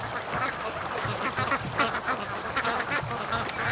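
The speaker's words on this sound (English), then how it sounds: "The ducks are definitely embracing the lake. Oh yeah, you can hear them way down to my left here" Several ducks quack on a lake, a busy overlapping chorus of calls heard from a distance, steady throughout with no voices.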